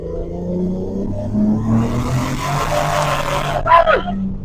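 A Mercedes 190E fitted with a BMW transmission rumbles steadily, then its engine note climbs as it drops into second gear. A brief voice cuts in near the end.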